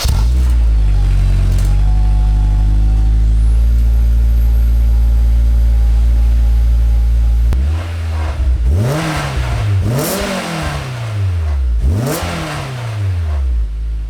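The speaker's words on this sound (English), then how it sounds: "So let me just turn it on and rev it up." Honda S2000 with a new loud aftermarket exhaust, starting cold into a steady low idle, then blipped through several sharp revs that rise and drop back, close and loud.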